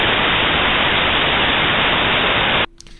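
A steady, loud hiss of white noise used as a test signal for system identification runs evenly for about two and a half seconds, then cuts off abruptly.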